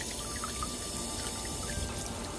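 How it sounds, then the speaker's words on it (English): Water pours steadily out of a homemade suction pump hose set up outdoors by a stream, a continuous broadband splashing flow with no pauses. "now the water's coming out of our thing."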